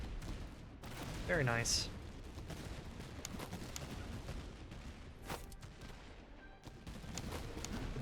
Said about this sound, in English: And let's open fire.